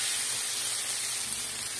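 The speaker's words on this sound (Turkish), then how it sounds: "kızartmaya devam ediyorum" Steady, close sizzling and hissing of peppers frying in a hot pan, continuous with no talk.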